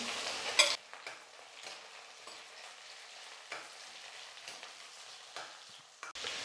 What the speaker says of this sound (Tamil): வெங்காயம் ஓரளவுக்கு இந்த மாதிரி நல்லா வதங்கினதுக்கப்புறமா தக்காளி சேர்த்துக்கலாம்.